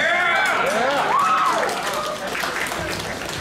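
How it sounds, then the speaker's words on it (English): Convention panel audience at G-Fest applauding, a broad wash of clapping that starts loud and gradually thins, with voices and cheers mixed in. "Get another round of applause for Chris, aka GojiFan93, for starting this"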